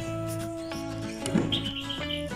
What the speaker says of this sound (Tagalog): narinig yung mga huni ng mga ibon